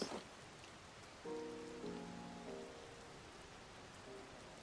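Steady rain in the video game Tears of the Kingdom, a soft continuous hiss of falling drops, with brief tonal game chimes layered over it.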